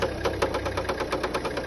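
A car engine with badly set timing runs with a rough, rapid metallic knocking that repeats at an even rhythm, close and fairly loud throughout.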